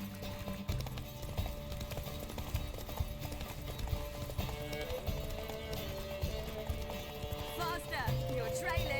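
Roach, the horse from The Witcher 3: Wild Hunt, gallops at speed with rapid, continuous hoofbeats that are loud and close, set against the ambient sound of the game world.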